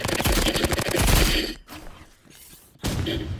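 Rapid video-game gunfire from a Rivals match rattles out in a loud, dense burst, falls silent briefly, then starts again with another close burst of shots.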